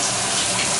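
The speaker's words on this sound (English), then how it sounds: "we're just focusing on the hot water, and we see that everything is draining really well" Hot water pours steadily from a shower tap and drains away, a dense continuous rushing splash heard up close with no talking over it.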